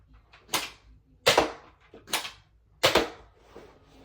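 Nerf Elite 2.0 Trio blaster firing foam darts from its barrels: four sharp, loud pops spaced roughly evenly apart, each with a snappy burst and short tail, heard alone without talk.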